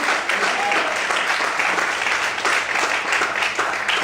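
A church congregation applauds steadily in a dense, continuous burst of clapping throughout, with a faint hint of voices mixed into the crowd noise.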